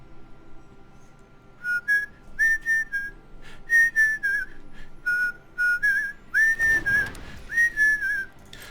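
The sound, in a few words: person whistling the melody of a song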